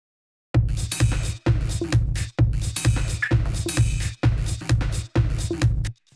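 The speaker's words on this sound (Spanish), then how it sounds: "Luego aquí tengo un clip MIDI," A MIDI clip played through an instrument rack of stacked devices: a loud, evenly spaced run of synthetic notes with a punchy low end, each sustained and cut off sharply, about seven in a row.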